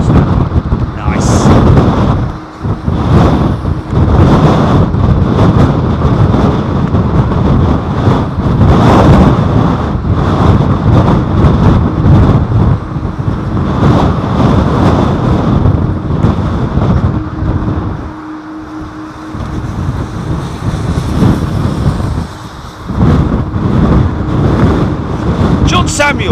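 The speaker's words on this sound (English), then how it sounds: "Oh, this wind's getting pretty intense." Strong gusting wind at London Heathrow airport buffets the microphone in a loud, continuous roar with rumbling surges and one brief dip, while a voice speaks intermittently beneath it.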